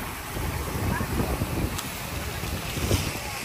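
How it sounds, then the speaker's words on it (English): Wind gusts buffet the microphone along a seaside boardwalk, a continuous broadband rush with fluttering low rumble, moderately loud and steady, with faint background activity. "It is windy down here."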